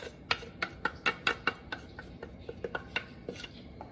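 Keto low-carb spaghetti sauce ingredients going into a pan on the stove, heard as a string of sharp clinks and taps, a quick cluster early on followed by sparser knocks, fairly close, with no talking.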